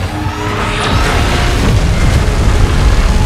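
A monster's energy beam blast in PUBG hits as a loud, sustained booming roar that swells and stays dense and rumbling to the end.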